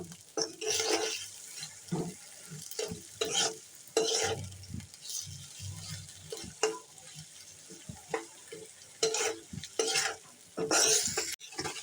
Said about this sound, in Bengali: পেঁয়াজগুলি নরম হয়েছে এবং ভাজাও হয়েছে